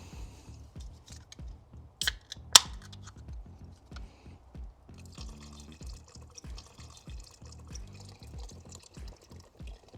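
Beer is poured into a pot of smoked chili, making soft rhythmic glugs and splashes up close, with a couple of sharp clinks early on and no talk.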